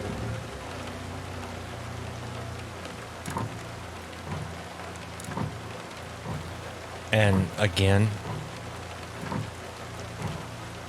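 Steady rain falls in American Truck Simulator while a distant thunderclap rumbles and a truck drives on, with someone speaking briefly over the storm.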